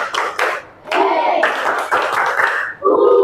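Students in a classroom clap in a counted rhythm, bursts of hand claps in groups of two and three overlapping with speaking voices.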